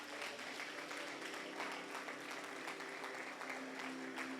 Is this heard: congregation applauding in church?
yes